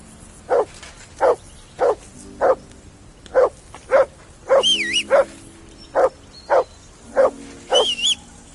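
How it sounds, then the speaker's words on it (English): A dog barking in the video game Kingdom Come: Deliverance 2, about a dozen sharp, evenly spaced barks at close range, some with whiny higher yelps layered in. "That barking was a pain in the ass."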